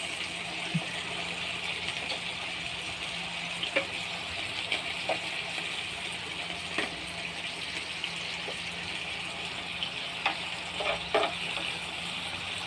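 Food frying in butter in a pan for a home cooking dish, a steady close sizzle running throughout with a few small pops and clicks, no voices.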